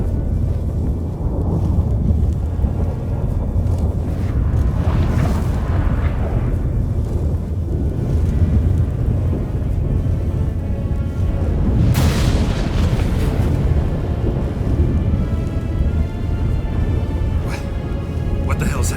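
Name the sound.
thunderstorm with rain and thunder in The Witcher 3 video game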